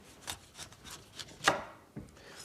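A knife slicing through a pineapple on a cutting board makes several short, crisp chopping and rasping strokes, one louder cut standing out, close and fairly quiet.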